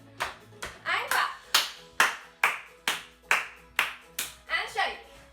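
Hand claps from small children, ages two to five, in a creative dance class sound in a regular beat of roughly a dozen crisp, nearby slaps, while a voice talks along.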